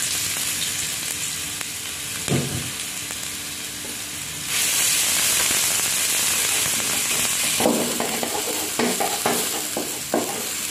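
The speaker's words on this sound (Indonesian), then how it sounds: "di sini untuk bumbunya ini akan saya tumis dulu" Spice paste sautéing in a pan: a steady sizzle and frying hiss that swells louder midway, broken by scraping stirs from a utensil, with no voices.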